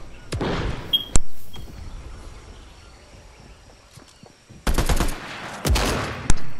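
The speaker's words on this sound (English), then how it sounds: "Is that you shooting?" Bursts of automatic gunfire in the video game Fortnite, a quick volley early on, a single sharp shot, then two loud rapid-fire strings near the end, with quieter gaps of game ambience between.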